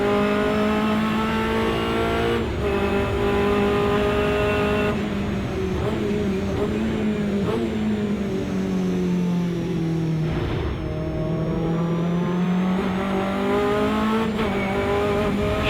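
Hot hatch race cars in a Silverstone race roar past close by, engines climbing in pitch and dropping as they shift gears. The sound is loud and continuous throughout, with no talk.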